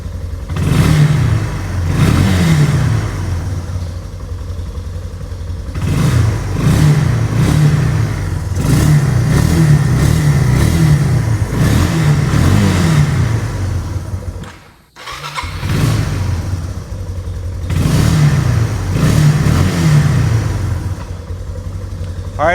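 Engine of a cheap four-wheeler ATV running after being fired up, revved in repeated throttle blips with a brief cut-out midway before picking up again, loud and close without speech.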